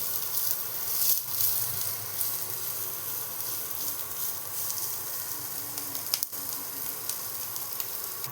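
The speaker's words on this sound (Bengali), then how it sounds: "পেঁয়াজটা হালকা ফ্রাই করে নেব।" Chopped onion frying lightly in a pan, a steady close sizzle with soft scrapes and brief clinks as it is stirred, no voices.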